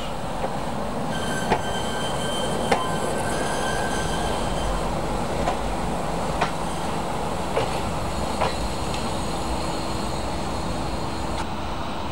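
A Picasso X-3800 railcar rumbles steadily at a station in Arques as it gets under way, a constant engine and rail noise with occasional faint clicks and squeals, no voices.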